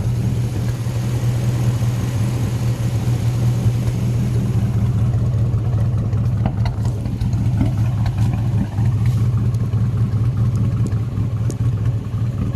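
A homemade racecar's V8 engine runs close by with a steady, rumbling low idle that holds fairly even, with only slight swells in revs.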